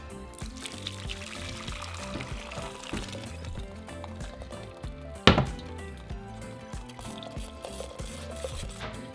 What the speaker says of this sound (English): Okay, so now our broth, we're going to strain it.